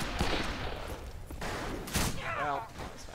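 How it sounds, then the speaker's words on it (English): Bursts of Fistful of Frags video game gunfire and dynamite explosions crackle in quick succession, with a rising electronic whine near the end; loud and busy. "There's a lot of explosions."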